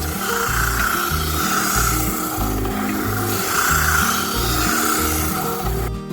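A loud, steady buzzing drone of an oscillating rotating tool sanding a wooden pen and pencil holder, with a rhythmic pulsing texture throughout.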